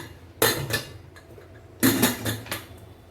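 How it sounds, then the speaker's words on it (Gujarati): Two sharp bursts of metal clanking and scraping as a pressure cooker lid is fitted and locked into place over dal and rice, close by with brief pauses. "હવે આપણે કુકર બંધ કરી દઈશું."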